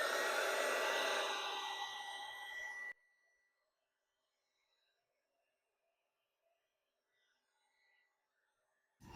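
A heat tool blows hot air over a mixed media tag, giving a loud steady whoosh for about three seconds before it cuts off, leaving near silence.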